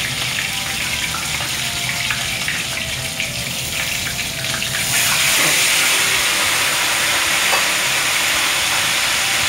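Chicken sizzles loudly frying in hot oil, a continuous crackling hiss that swells noticeably louder halfway through.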